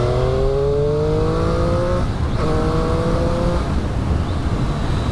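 A Triumph Street Triple R motorcycle's engine revs up through the range, its rising whine climbing in pitch twice in quick succession, loud and close over a steady road roar.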